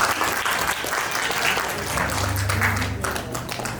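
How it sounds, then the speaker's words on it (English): Steady applause fills a room at a birthday celebration, a crowd clapping loudly and continuously from nearby, with a brief voice surfacing under the clapping. "If you can please have a round of applause for Auntie Ray."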